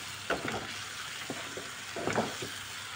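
Chilli powder and turmeric stirred into a masala frying in a pan, with intermittent scraping stir strokes over a steady low sizzle, close and moderately loud.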